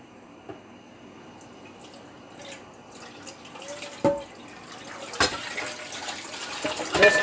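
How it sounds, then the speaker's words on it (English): Cold water poured slowly onto a hot pan after breakfast cooking, giving faint trickling and scattered drips with a few sharp sizzling pops that grow louder toward the end. "pour cold water on."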